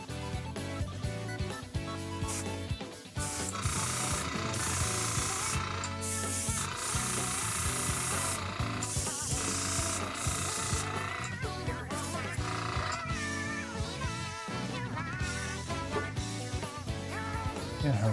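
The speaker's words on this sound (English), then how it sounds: "Drilling? It's the airbrush." An airbrush compressor runs with a loud, steady hiss and hum that surges and drops off in bursts as air is released, close and continuous.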